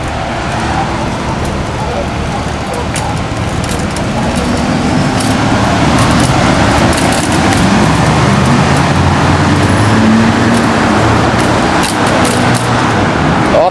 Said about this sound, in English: a lot of cars pass by and it's kind of annoying because it connects two major roads